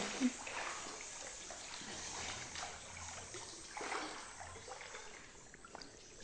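Someone swimming while bathing outdoors makes continuous soft splashing and trickling water, close and fairly quiet, with a few sharper splashes.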